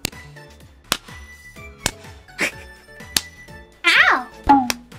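Several quick slaps of a person striking themselves in a fake stage-slap demonstration, dry and close, spaced through the moment, with talking and a pained cry mixed in around the final hits.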